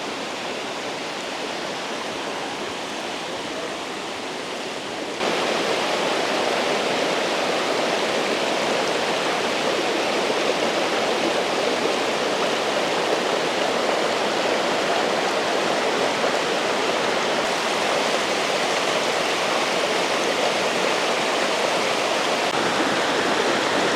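Waterfall in Alberta, a long falls, rushing as a steady broadband roar that grows louder partway through and then holds constant, with no voices.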